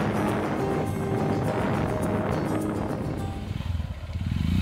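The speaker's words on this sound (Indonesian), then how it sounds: "mengendarai motornya saya dibawa melewati perkebunan dan perkampungan" A motorcycle rumbles close by as it carries a passenger along a bumpy road through plantations and villages toward Ciptagelar village in Indonesia. The engine drones continuously, with a wavering, throbbing note near the end.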